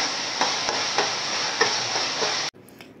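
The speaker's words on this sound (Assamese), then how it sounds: "হালধি দি দিছোঁ এচামুচ আৰু লৰাই দিছোঁ" Turmeric and cumin powder stirred and frying in hot oil in a pan for urad dal and fish curry: a steady loud sizzle with soft spoon scrapes every half second, cutting off abruptly near the end.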